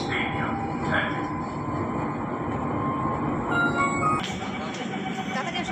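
A Lucknow metro train runs through a station with a steady broadband rumble, a few brief high squeals, and a sharper shift near the end. People talk over it.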